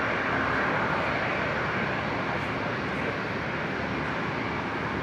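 An Airbus A220 airliner begins taxiing at Brisbane International Airport, heard as a steady, broad jet-engine roar that stays constant and fills the whole clip with no pauses.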